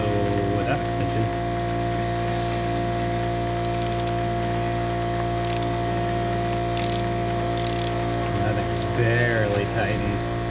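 A ratchet on an extension tightens an E-Torx bolt on the high-pressure fuel pump of a BMW N54 engine, its quick clicks close and under a steady mechanical hum while someone talks.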